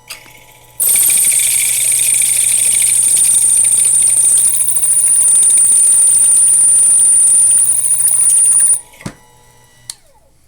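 A Proxxon FF230 milling machine runs loud and steady for about eight seconds with a bright high whine, then stops, followed by a couple of sharp taps.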